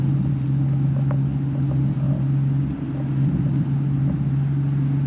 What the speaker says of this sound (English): I don't know if you can hear a little bit like burbles, like little pop, like up the back.